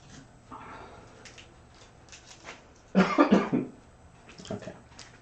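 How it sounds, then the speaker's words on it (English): A short burst of several harsh coughs caused by clay dust in a pottery workspace, close and loud, following a quiet stretch with soft background noise. "That was a clay dust cough"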